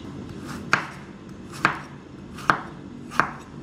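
A knife chops through a peeled raw bottle gourd (lauki) on a cutting board in a home kitchen, giving four sharp, evenly spaced thuds, close and clear, with no talking.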